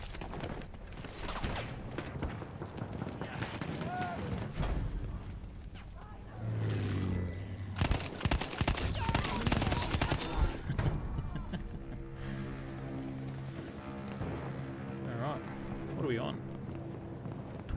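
Gunfire from a Battlefield 1 weapon crackles in bursts, loudest in the middle, partly buried under someone talking over the game.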